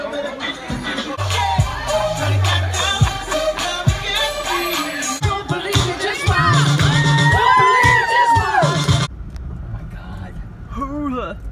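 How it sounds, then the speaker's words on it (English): Crowd of adults and children cheering and whooping on a moving amusement ride, loud and continuous, with vehicle rumble underneath and the cheering dropping away near the end. "I thought everyone was cheering for me"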